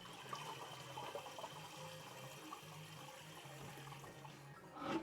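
Water runs steadily and quietly into a kettle being filled for tea, a soft continuous rush that swells slightly near the end.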